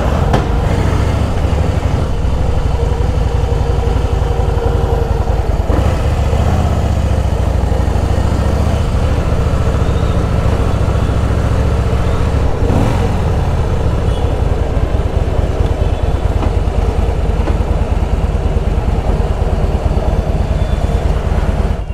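A Harley-Davidson motorcycle engine runs loud and close in a continuous, throbbing rumble for the whole stretch, with brief rises in revs and no talk.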